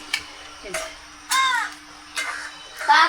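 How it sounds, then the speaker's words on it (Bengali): A crow caws near a home kitchen, giving five harsh, separate calls spaced about a second apart, loud and close, with no talk over them. "কাকও চলে আসে।"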